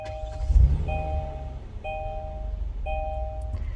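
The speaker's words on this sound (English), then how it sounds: "Start the vehicle normal using the brake and push the start button." Push-button start of a 2020 Kia Telluride with the brake held: a series of repeated chime tones over a steady low engine rumble close by, with no talk.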